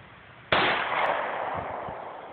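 A single sharp report from a Ruger firearm cracks out loud and close, followed by a bright, noisy decay that lingers for well over a second before fading.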